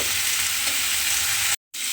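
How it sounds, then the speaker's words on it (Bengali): Cauliflower and potato pieces fry together in a pan, giving a steady, loud, close sizzle that runs evenly before a brief drop to silence near the end. "আমি এখানে ফুলকপি আর আলু একসঙ্গেই ভেজে নিচ্ছি।"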